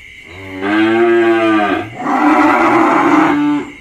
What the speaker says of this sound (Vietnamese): Nói chung là 4 con bò ngoài này nè.